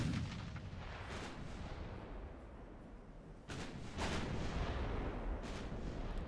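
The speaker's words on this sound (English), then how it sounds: "Let's go ahead and turn out and get a full broadsides to bear" Naval broadside gunfire from warships in the Ultimate Admiral Dreadnoughts game: a dense, continuous rumble of heavy artillery with sharper booming salvos breaking through near the middle and end.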